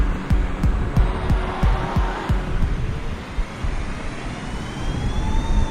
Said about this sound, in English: As expected, it sounds like a 747, because this plane is based on a 747